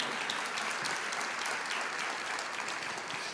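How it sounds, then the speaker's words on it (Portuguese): A church congregation applauds in a steady, dense wash of clapping lasting a few seconds, moderately distant with no voices over it. "aplauda mesmo o Senhor"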